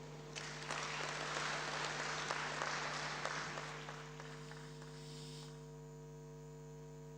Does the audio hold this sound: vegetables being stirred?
no